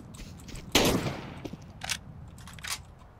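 Gunfire in Counter-Strike: Global Offensive: one loud, close shot bursts out and rings off, followed by a few sharper, more distant shots spaced apart over a steady background hum.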